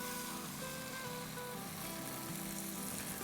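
Melted unsalted butter hitting gram flour roasting in a pan for besan halwa, giving a steady, broadband frying sizzle that holds evenly and fairly faint throughout, with no talking.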